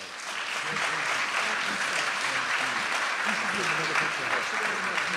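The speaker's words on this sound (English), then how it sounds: "So give them another round of applause" A round of applause at a pledge anniversary celebration, steady and sustained clapping from an audience with murmurs mixed in.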